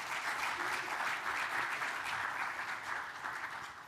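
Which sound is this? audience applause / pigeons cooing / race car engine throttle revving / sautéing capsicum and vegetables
audience applause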